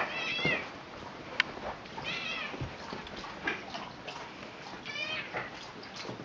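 A house cat meows several times indoors, faint and somewhat distant, over a quiet background with occasional small ticks and knocks.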